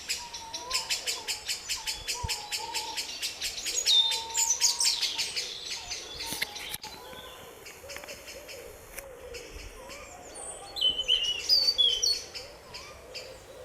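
A tawny owl hoots under the harsh, rapid chattering alarm calls of several blackbirds mobbing it, outdoors; the sharp repeated chinks come in bursts, loud at times, with softer hoots and other birdsong between.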